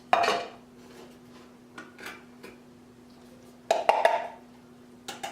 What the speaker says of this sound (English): What you do is you just dump all the corn in there. All 3 cans.